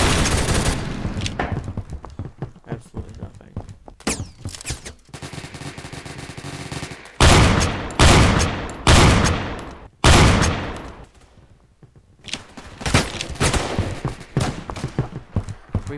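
Shotgun fire in the online shooter game Phantom Forces: loud, sharp blasts in irregular bursts, some clustered close together, with quieter stretches of game noise between them.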